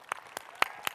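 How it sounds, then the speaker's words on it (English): A few separate claps from an audience at a literary reading event, four sharp distinct hits spaced evenly and fairly quiet, alone with no talk. "I want to give a big round of applause to our wonderful"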